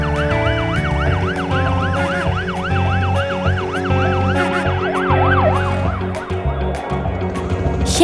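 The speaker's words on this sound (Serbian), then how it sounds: "Vatrogasni kamion." A fire truck siren wails loudly and close, its rising and falling tone repeating in a steady cycle for the whole stretch with no voices.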